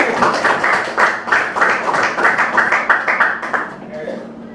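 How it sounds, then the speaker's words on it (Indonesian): A high school art class at SMAN 46 Jakarta bursts into rhythmic clapping, steady beats close and loud, with voices talking over the applause before it trails off. "Ya, tepuk tangan"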